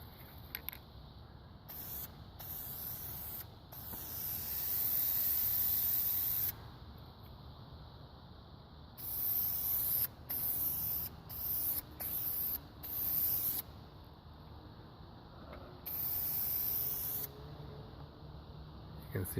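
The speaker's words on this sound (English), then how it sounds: "I'm gonna spray some primer on it." A spray can of combined primer and paint hisses onto bare metal on a rusty wrought iron gate, in several close bursts of varying length separated by brief pauses.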